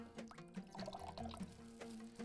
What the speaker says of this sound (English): drain the water out of this mung seeds or mung beans